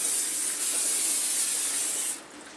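A continuous hiss of aerosol cooking spray onto a 9x13 inch baking dish for about two seconds, close and steady, then cutting off abruptly.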